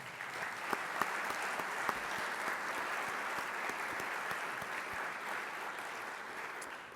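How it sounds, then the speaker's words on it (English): An audience at a university campus event breaks into steady applause, a dense, even wash of many hands clapping at moderate distance, continuing without voices. "We should give a round of applause for that."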